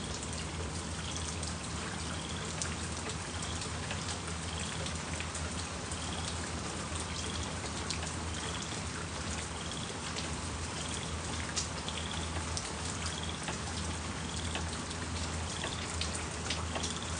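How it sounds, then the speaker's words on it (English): Steady rain in a Texas flood setting, easing toward a fine mist, makes a continuous even hiss of drops on surfaces with soft trickling water, constant in level throughout with no voices. "But look, the rain is easing up. It's to a fine mist now"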